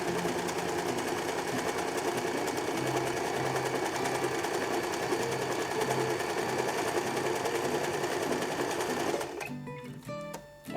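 A sewing machine stitching the third stage of a 4-step buttonhole, running backwards on held fabric: a steady, fast, loud mechanical whirr for about nine seconds before stopping with a few clicks.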